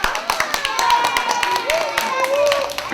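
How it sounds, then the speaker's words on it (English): An audience claps in a quick, uneven patter for a girl named Caitlin, the claps dense and close while a voice speaks over them. "we gotta clap for Caitlin"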